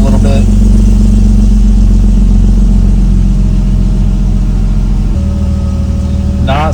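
A BMW E46 drift car engine rumbles loudly and steadily at idle while warming up after a restart, very close, with a slight shift in tone partway through.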